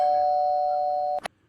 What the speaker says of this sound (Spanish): Vamos a escuchar el sonido del timbre.